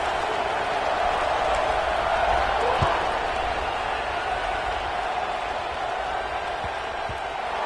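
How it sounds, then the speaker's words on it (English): Steady roar of a college football stadium crowd at an Auburn versus Florida game, sustained and fairly loud around the kickoff, a broad wash of many voices with no single talker standing out. "this crowd is feeling themselves after that last drive"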